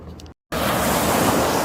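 Continuous rushing wash of water at the River Thames shore, loud and close with some wind noise, preceded by a brief cut to silence.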